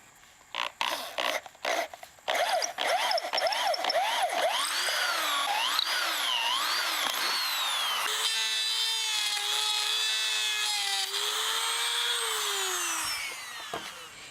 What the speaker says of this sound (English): And I use a hole saw on a drill.